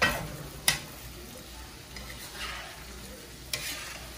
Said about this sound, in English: I'm getting my seasoning and my shrimp cooked together.